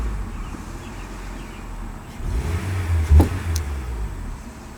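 A Honda Civic engine fitted with a new air filter revs up briefly from a steady idle, the rise in engine note swelling near the middle before settling back, heard close and alone.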